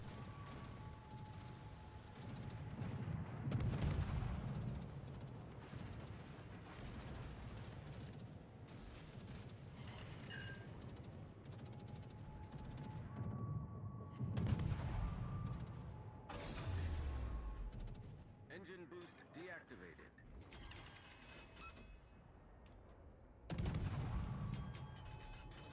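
Naval guns boom from warships in World of Warships, with heavy blasts and rumbling salvos spaced across the stretch. Between the shots, softer distant firing and engine drone carry on.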